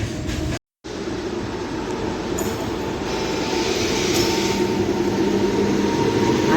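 An MMTS express train runs through Sanath Nagar station without stopping, a steady loud rumble of wheels and cars that builds slightly over several seconds, broken once by a brief dropout.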